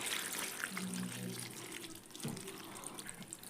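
Buttermilk is poured over chillies, a soft splashing and trickling of liquid that is faint and continuous, with a voice speaking underneath.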